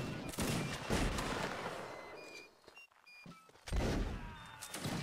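Musket volleys in Mount & Blade: Warband Napoleonic Wars, a line battle, with dense overlapping gunfire that dips briefly near the middle before loud shots return, clustered and close.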